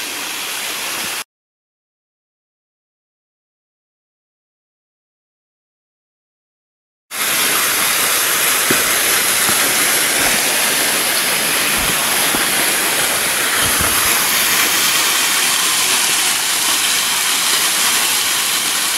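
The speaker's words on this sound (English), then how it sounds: "There's the waterfall" Waterfall above the Pool of Siloam in the Blue Mountains, heard from a lookout as a constant broadband rush of falling water, loud and unbroken, following a short stretch of silence.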